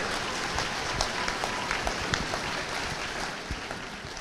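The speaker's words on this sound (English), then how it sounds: "Give them one more round of applause, please." Audience applause for a school orchestra at an evening high school ceremony, steady dense clapping that holds at an even level throughout, with no talking over it.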